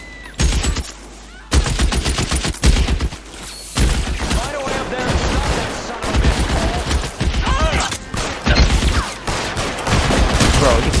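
Gunfire in LA Noire, repeated loud shots and bursts in rapid clusters across the stretch, mixed with other game sounds and voices.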